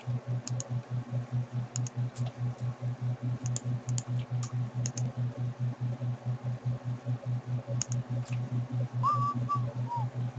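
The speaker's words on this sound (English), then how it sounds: "No whistling!" A short whistled tune rises briefly near the end over rapid keyboard typing and a pulsing low hum.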